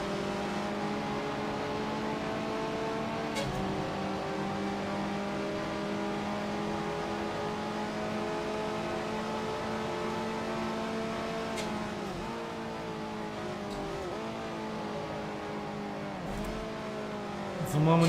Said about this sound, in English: Now is Patrick right behind me in a Maserati of his own.